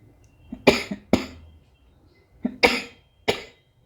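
Four separate coughs in two pairs, close and fairly loud, with short quiet gaps between them and no talking.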